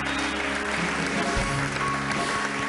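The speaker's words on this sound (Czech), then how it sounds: "Zatleskáme dobrovolnici." Audience applause for a volunteer in a Czech stage comedy show, a steady dense clapping texture sustained throughout over a low background hum.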